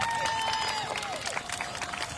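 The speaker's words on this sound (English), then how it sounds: "Let's give them a round of applause." A crowd at a St. Mary's Academy commencement ceremony claps for the 2025 graduates, with a steady wash of applause mixed with cheering and a whistle-like tone near the start.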